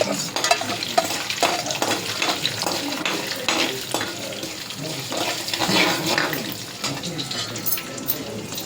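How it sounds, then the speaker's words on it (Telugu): Curry leaves and green chillies fry in a pan for lemon rice, a steady crackling sizzle with stirring scrapes running throughout, close and fairly loud. "కరివేపాకు, పచ్చిమిర్చి వేసి వేపుకుంటున్నాను."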